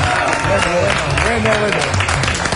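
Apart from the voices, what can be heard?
studio audience applause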